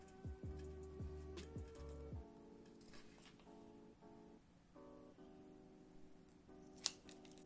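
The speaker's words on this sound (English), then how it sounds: "So we're just going to cut 2 pieces" Scissors cut two pieces of elastic for a homemade face mask, with a few close, crisp snips at the start followed by quiet handling and a sharp click near the end.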